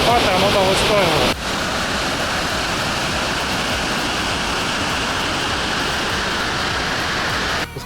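Elephant Waterfall near Dalat, Vietnam, a loud, continuous rushing roar of cascading water up close, with a voice heard briefly at the start before the water carries on alone.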